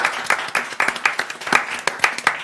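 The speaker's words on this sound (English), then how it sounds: "I want to give them a round of applause" Small group clapping at a December 2022 United Mutual members' meeting, sparse, uneven claps forming a light round of applause that recurs steadily over a couple of seconds, moderately near with no talk.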